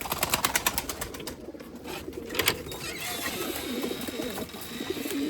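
Erzurum white breeding pigeons cooing in their loft, repeated soft rhythmic coos with wing flutters and clicks, fairly faint.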